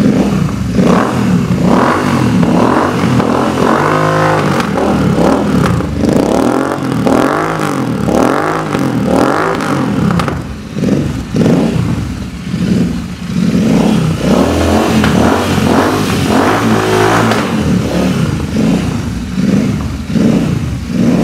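A custom Royal Enfield Interceptor 650 motorcycle engine revs up and down repeatedly, loud and close, with rhythmic throttle blips and a steady mechanical rumble throughout and no talking.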